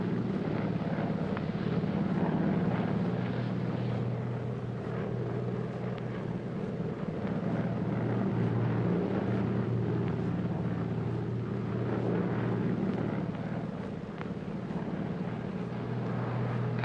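A steady low engine drone fills a 1940s airplane cabin in flight, a constant moderate hum with a faint airy wash, no talk heard.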